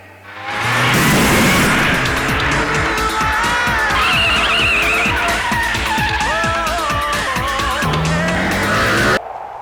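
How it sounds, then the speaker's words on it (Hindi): A car roars up and skids to a stop, tires squealing loudly over a sustained engine note, all close and loud, with a dramatic music score playing underneath; it cuts off abruptly at the end. "राम सिंह, गाड़ी लाओ"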